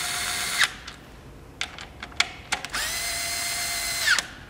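Power tool tightening a blow-off valve flange on an 08 Subaru WRX: a few sharp, close whirring bursts, a short one, several quick blips, then a longer steady run.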